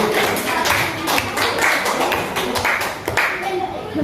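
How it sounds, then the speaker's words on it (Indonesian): A classroom of students claps for a student group, a brisk uneven patter of hands close by with voices mixed in. "kita beri tepuk tangan untuk kelompok"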